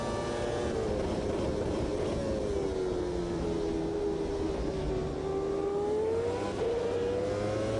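Several 1995 Formula 1 cars race in Automobilista 2, their engines droning loudly and continuously with rising and falling pitch sweeps as cars pass, with no talk.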